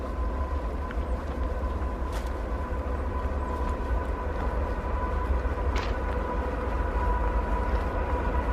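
A train rolls along a nearby railway track beside a hiking trail at Salt Lick Point, a steady low rumble holding for several seconds with faint higher squeals, no voices.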